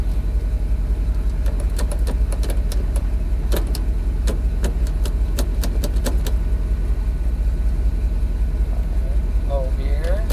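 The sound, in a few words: station wagon engine running in gear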